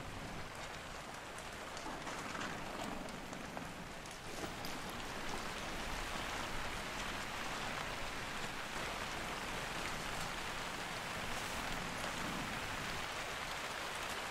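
Steady, dense rainfall in the video game Hunter: Call of the Wild patters on a surface throughout, a continuous hiss of drops with no voices.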